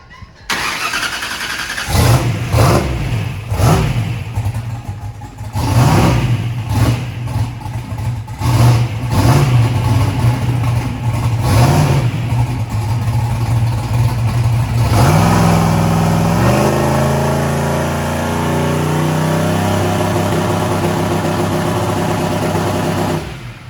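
A large engine fitted with a 118mm turbo revs repeatedly in loud, close bursts, then holds higher RPM with a rising, sustained whine as the turbo spools up.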